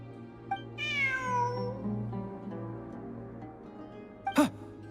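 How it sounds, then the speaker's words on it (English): A cat in the Genshin Impact video game lets out one clear, drawn-out meow over steady game music, followed by a short, sharp sound near the end. "Look! A cat!"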